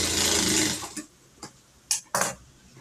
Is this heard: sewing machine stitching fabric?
yes